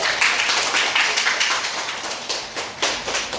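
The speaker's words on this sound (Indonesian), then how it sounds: "Kita kasih aplaus dulu." Audience applause closing a university teaching session, a steady wash of many hands clapping at close range for a few seconds with no talk over it.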